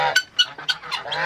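Guinea fowl in a backyard poultry enclosure give a run of four or five loud, harsh honking calls, close to the microphone and evenly spaced, with no talking.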